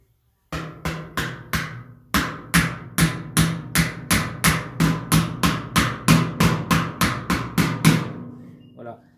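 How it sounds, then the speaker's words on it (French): A hammer taps lightly and rapidly on a Citroën 2CV car body panel backed by a dolly, a steady series of about twenty sharp metallic knocks, close up, with a short pause after the first few. "vous prenez votre marteau ou votre batte, peu importe, et vous tapez légèrement ici"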